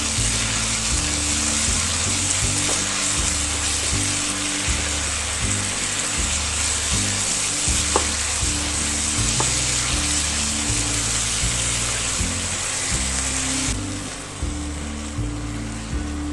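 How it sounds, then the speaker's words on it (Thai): Minced pork with holy basil and rice is stir-fried in a hot pan, giving a loud, continuous sizzle with scraping stir strokes from start to finish and no talking. "ผัดไปเลยอะไรอย่างนี้"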